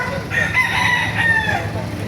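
Sweater gamefowl rooster at a chicken market in Baliuag, Bulacan, giving one loud, close crow that sustains across the clip over a busy background.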